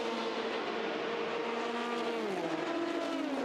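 A race car at Le Mans picks its way through traffic, its engine whining at a steady high pitch that drops as it passes, loud and continuous with trackside roar and no talk.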